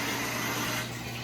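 Water runs from the faucet into a heart-shaped jetted spa tub, a steady rushing hiss over a low hum that eases slightly toward the end.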